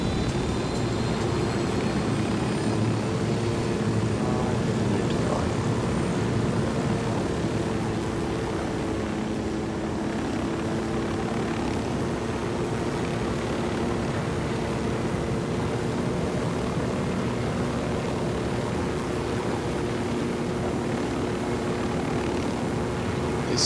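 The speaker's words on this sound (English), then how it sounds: "We'll take the helicopter for that, definitely" Helicopter in flight in the video game Ghost Recon Wildlands, a continuous droning rotor and engine hum with a steady low throb, holding an even level for over twenty seconds with no voices.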